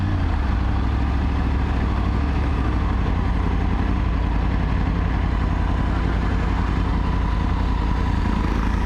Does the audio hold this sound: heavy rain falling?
no